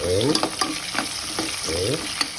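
Food sizzling in a pan as the lid comes off and it gets stirred, a few close spoon scrapes over steady frying, in a dish where mussels go in next.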